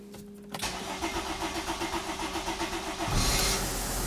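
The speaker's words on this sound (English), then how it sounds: "let's test drive this vehicle and see how it drives" A Mercedes/Dodge Sprinter van engine with a boost pressure regulator fault cranks for a long, pulsing stretch of about two and a half seconds, then catches and settles into a loud, steady idle close by.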